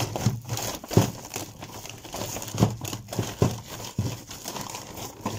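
Plastic bags holding salvaged computer circuit boards and motherboards crinkle and rustle in a few separate handling bursts, close and moderately loud, with no talking.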